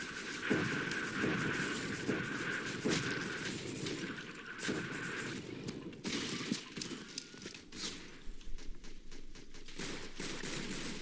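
Artillery fire in the game Entrenched brings a dense barrage of blasts and sharp cracks, loud and continuous, with repeated impacts rolling over each other for about eleven seconds.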